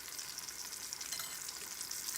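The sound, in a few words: chicken breaded for chicken parmesan sizzling in frying oil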